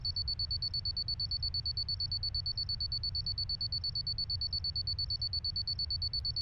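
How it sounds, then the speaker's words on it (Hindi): A steady electronic alarm beeps in a fast, continuous pulsing pattern, loud and unbroken, with a low hum underneath and no voices. "अलार्म क्लॉक की आवाज फोन में?"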